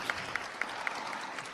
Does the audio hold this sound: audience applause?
yes